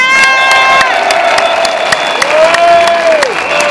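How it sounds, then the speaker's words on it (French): A crowd at a Paris protest rally applauds loudly and steadily, with cheering and whoops mixed into the clapping and a high whistle-like tone sliding through. "je vous prie de faire un tonnerre d'applaudissements à Valérie Lopi."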